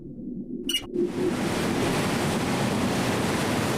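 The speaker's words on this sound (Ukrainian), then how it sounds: "Тут утворюються найвищі хвилі у світі." Large ocean waves crash against the coast of Portugal, a brief burst of spray noise giving way to a loud, steady roar of surf that fills the rest of the stretch with no voices.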